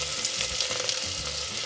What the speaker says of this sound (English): I'm going to take all the onions that the recipe calls for and saute them in the tallow.